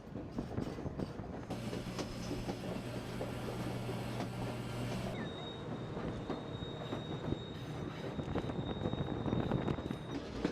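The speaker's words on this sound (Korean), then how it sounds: "산 허리를 깎아서 만든 철로를 달리는 화이트패스 기차" White Pass train runs along a mountain railway cut into the hillside, a steady rumbling rattle of wheels on track with a sustained humming tone and a thin high squeal in the latter half.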